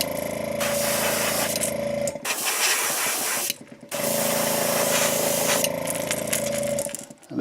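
An airbrush sprays Createx opaque white base coat in long hissing bursts with a steady whine, broken by short pauses and resuming, close and fairly loud, with no speech.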